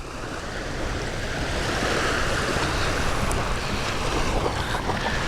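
Waves wash steadily onto a Michigan lake shore, a broad continuous surf roar with wind buffeting the microphone and no voices.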